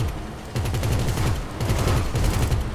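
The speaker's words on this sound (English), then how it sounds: "maybe I'm going to spam some bullets here" Rapid gunfire sprays in dense, overlapping bursts in the online mode of the video game GTA 5, loud and close, with brief gaps between volleys.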